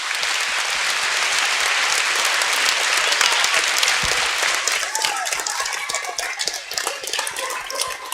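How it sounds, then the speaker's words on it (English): Loud, dense applause fills a school Veterans Day assembly as the audience claps for veterans, a steady roar of many hands that thins slightly toward the end. "we're just going to give you a round of applause"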